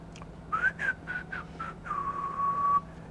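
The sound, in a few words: friendly whistle imitated by speaker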